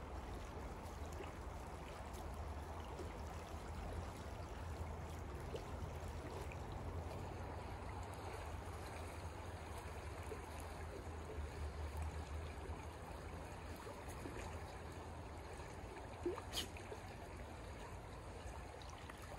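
A creek where kokanee salmon are spawning flows steadily as a soft, constant wash of water, faint and even throughout with no voices.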